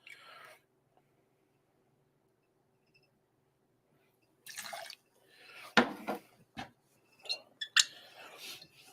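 Two ounces of barrel-aged Le Gin poured for a breakfast cocktail: after a quiet stretch come short, close liquid pours and dripping mixed with light clinks and handling noises.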